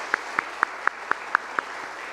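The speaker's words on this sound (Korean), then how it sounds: "한번 큰 박수를 드립니다" Church congregation gives a soprano a round of applause during an anniversary worship service, though only a slow, even series of about eight distinct claps is heard, close and regular with nothing else over them.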